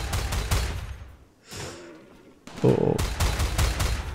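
Rifle gunfire in the colony-building video game RimWorld, a rapid burst of sharp close shots, then a quieter gap and another dense volley, with a brief spoken exclamation mixed in.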